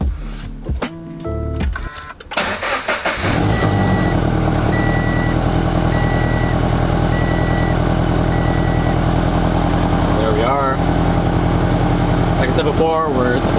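A Subaru BRZ fitted with an aftermarket oil pressure gauge starts after a few seconds of handling noises, then settles into a steady, loud idle with a constant hum and a faint intermittent electronic beep, with a brief rattle near the end.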